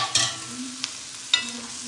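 Kundru (ivy gourd) and other vegetables get stirred in a pan over a low gas flame, a brief soft sizzle broken by two or three quick scraping strokes of the spoon, close by with no talk.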